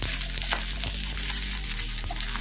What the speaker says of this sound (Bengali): এখন এই একই তেলের মধ্যে দিয়ে দিয়েছি পেঁয়াজের টুকরোগুলো হালকা করে ভেজে নেব।